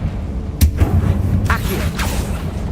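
A Confringo fire spell is cast in Hogwarts Legacy, giving sharp blasts and thuds, with a few quick impacts under the game's background noise.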